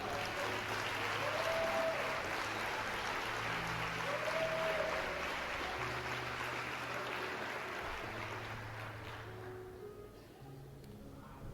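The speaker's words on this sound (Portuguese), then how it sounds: "Aplauda o Senhor." Church congregation applauds the Lord in a long, steady wash of clapping, moderately distant and even, with sustained tones underneath and a gradual fade near the end.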